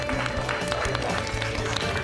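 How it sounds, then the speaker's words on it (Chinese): Studio audience clapping together after a round of a televised debate show, a steady dense wash of applause lasting the whole moment without a break. "都给自己鼓鼓掌吧。"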